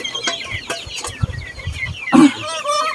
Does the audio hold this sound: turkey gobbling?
yes